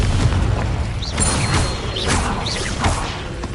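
Confringo fire spell blasts in Hogwarts Legacy, a loud, heavy rumbling explosion with whooshing bursts and crackling impacts that rise and fall over a few seconds, no voices.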